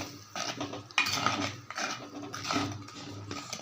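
A utensil scrapes and clinks against a pot of fenugreek curry in a few uneven strokes, fairly faint and close, with no talking.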